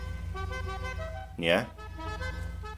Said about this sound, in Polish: klaksony pojawiły się nowe razem z aktualizacją biznesową